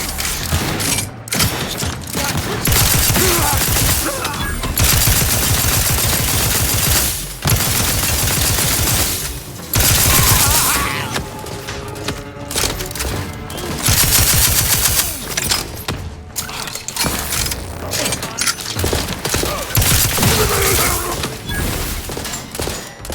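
Video game gunfire in dense, rapid bursts of shots with mechanical clatter, loud and sustained, broken by brief pauses.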